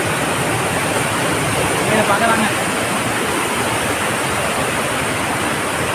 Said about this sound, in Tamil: அப்பா அப்பா பாருங்க தண்ணி செம்மையாக வந்துட்டு இருக்குங்க